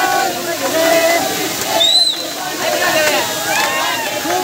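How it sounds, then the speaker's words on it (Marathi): Waterfall near Nashik in a rural monsoon setting, a broad rushing wash of falling water heard close, with people talking and shouting over it and a few bird calls above. "खूप छान धबधबा आहे"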